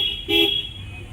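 Short car horn toots in busy road traffic near a bus stand by Devgad harbour in Sindhudurg, a steady tone blaring loud and close for about a second over engine hum.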